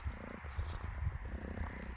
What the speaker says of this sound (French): elle ronronne tout le temps.